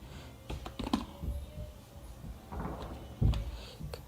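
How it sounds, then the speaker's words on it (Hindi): Clicky typing on a computer keyboard entering a command, a quick run of keystrokes with a heavier key thump near the end, close and alone. "हम इसको जल्दी फॉर्मेट करने के लिए एक कमांड और टाइप कर देंगे, क्विक"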